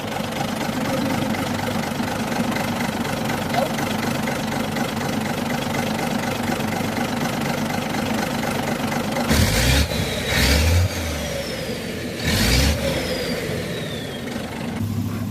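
A Mack E7 diesel truck engine idles steadily and close by, with a few heavier knocks and surges near the end and no talking.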